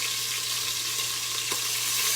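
Beef short ribs brown in an Instant Pot, giving a steady, loud hiss and sizzle with a faint low hum underneath and one brief clink near the end, no voices.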